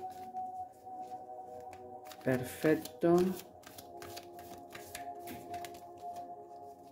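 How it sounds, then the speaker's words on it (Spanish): Angel cards shuffled by hand in a short burst of riffling and slapping, a couple of quick rustles in the middle of a calm spoken reading, with a voice talking briefly and light background hum throughout. "comenzamos a barajar las cartas"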